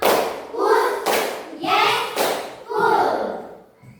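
A group of children claps a rhythm in a classroom, with repeated sharp bursts of hand claps mixed with loud chanting voices over about four seconds.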